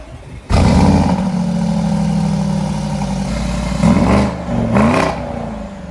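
A 700-horsepower Porsche engine barks to life through a loud full exhaust, settles into a rumbling idle, then two sharp revs blip near the end.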